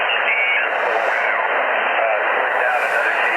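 Ham radio receiver tuned to people talking, their voices coming through a steady, loud wash of band noise that never drops away, with the static swelling slightly in brightness partway through.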